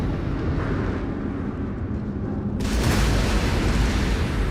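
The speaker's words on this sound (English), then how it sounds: "Oh, so many explosions." Explosions in the Starfield video game: a low rumbling roar builds, then a loud, broad blast erupts about halfway through and keeps booming to the end, with no talk.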